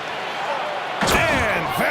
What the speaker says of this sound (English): And Vanderbilt slams it in